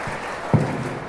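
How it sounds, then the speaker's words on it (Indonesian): Brief burst of audience applause in a hall at a Maulid Nabi gathering at a high school, a steady wash of clapping lasting about a second with a single louder thump midway. "Tepuk tangan, tepuk tangan."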